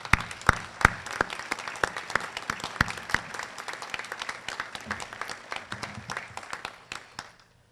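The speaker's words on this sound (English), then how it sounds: "Please help me giving a round of applause to these fine individuals" A round of applause from an audience at a community ceremony honoring service members, dense clapping with a few sharp near hand claps standing out, holding steady before tapering off and stopping.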